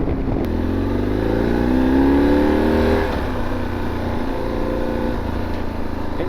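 A BMW R1150GS boxer-twin motorcycle with shaft drive revs up and settles back, a steady loud engine drone that rises in pitch for a couple of seconds then eases off, with no talking over it.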